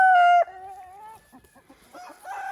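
Marans blue copper hens, a homemade crossbreed, cluck and call close up, opening with a loud sustained note followed by a run of shorter clucks and chatter from the flock.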